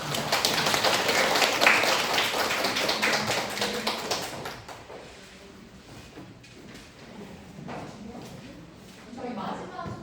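A seminar audience claps for the presenters after a class on marketing demand forecasting with XGBoost, a dense burst of applause for about four seconds that then thins to scattered taps and room noise.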